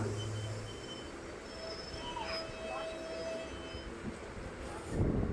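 Passenger train pulling out of Pazhayangadi railway station in Kerala on a daily Kerala–Karnataka service: steady low rumble of wheels and carriages with faint high squeals and tones drifting over it, growing louder near the end.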